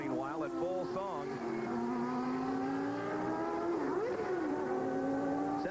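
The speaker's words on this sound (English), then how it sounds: "Here comes Senna, meanwhile, at full song." Formula One race car at Hockenheim screaming past at full speed, a loud engine howl with rising and falling pitch sweeps as it passes, with commentators talking over it throughout.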